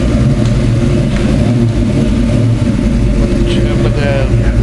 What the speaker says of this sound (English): Trying to do a garage burnout here.